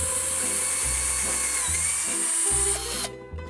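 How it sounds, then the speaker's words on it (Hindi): Power drill fitted with a larger bit enlarges a hole for passing wire, several loud whining bursts close by with brief pauses between them, ending abruptly, with no speech. "तीसरा होल हमें बड़ा करना है वायर को पास करने के लिए, तो उसके लिए बिट चेंज कर देते हैं।"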